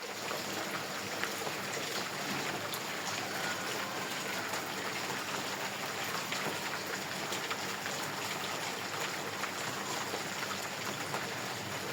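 Heavy rain pours down steadily in a rainy-season downpour, an even, continuous wash of close patter that never lets up, with no voices.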